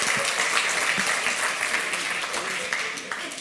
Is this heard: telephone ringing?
no